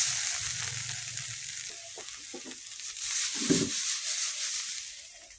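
Food frying in a pan in a home kitchen, a soft sizzle with occasional stirring and scraping, steady and close with no talking.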